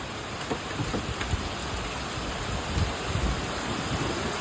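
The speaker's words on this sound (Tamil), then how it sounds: "சாரல் காற்றோட மழை பெய்யுது" Rain falls steadily with wind at a home in Tamil Nadu, a soft continuous hiss with faint scattered drops and gusty rustle throughout.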